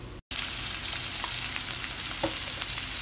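Ginger-garlic paste frying in a pan for beef karahi, a dense continuous sizzle close up, a brief dropout near the start, then steady frying with a few faint clicks.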